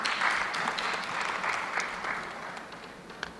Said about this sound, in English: Big round of applause for Mr. Girish Sharma.